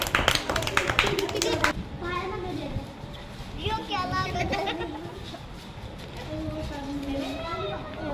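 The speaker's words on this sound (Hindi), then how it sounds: "चलो तालियां बजाओ।" Children in a school classroom clap in a quick, close burst of claps at the start, then their chatter and voices carry on through the rest.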